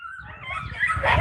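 A dog gives a run of yips, whimpers and short barks, close and fairly loud, rising in intensity toward the end with no talk over it.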